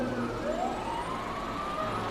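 Fire engine siren wailing in a continuous, rising sweep as firefighters head out toward the city centre, steady and fairly loud, with no voices.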